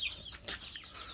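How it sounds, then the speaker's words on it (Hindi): A few faint, high-pitched peeps and chirps from three-to-four-day-old chicks, brief and close, over a soft background hiss. "ये तकरीबन 3-4 दिन का चूज़ा हो चुका है"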